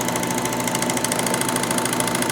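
A Baby Lock Vibrant serger sewing a rolled hem at a slow, steady pace, a loud, close, even mechanical whir with a fast regular pulsing rhythm throughout.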